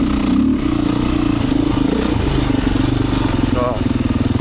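A Beta 500 four-stroke dirt bike with a 14-tooth front sprocket lugging in third gear at near walking pace on a trail, a close, steady low chugging thump with rattling, while a rider talks over it.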